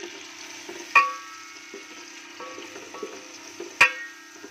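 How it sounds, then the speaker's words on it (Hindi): Onions frying in hot oil for a potato and pea curry, a steady low sizzle with soft stirring and two sharp metallic clanks of a utensil against the pan. "ऑयल हमारा गर्म हो चुका है। इसमें हम डालेंगे प्याज।"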